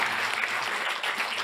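Brief burst of dense audience applause at an insurance industry talent awards ceremony, many hands clapping steadily and fairly loudly with no speech over it.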